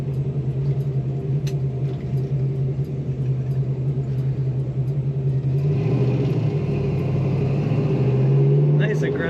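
A 1966 Ford Mustang coupe with a four-speed manual, its exhaust rumbling steadily while driving and swelling slightly toward the end, with someone speaking over the engine noise.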